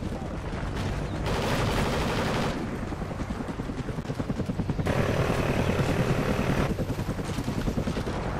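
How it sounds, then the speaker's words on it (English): Helicopter in the video game Call of Duty Ghosts, a loud continuous rotor thrum with rapid gunfire bursts layered over it, swelling in two louder stretches. "Friendly chopper inbound."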